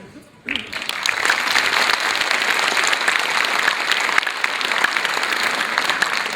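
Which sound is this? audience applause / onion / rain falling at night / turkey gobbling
audience applause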